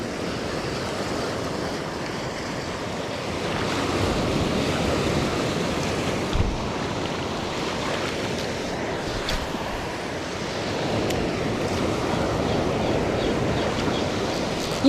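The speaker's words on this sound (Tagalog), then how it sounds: "Kalmado na sana kasi malaki pa rin yung alon." Big sea waves surge and wash continuously close by, with gusty wind rushing over the microphone and a few louder breaking swells standing out from the steady roar.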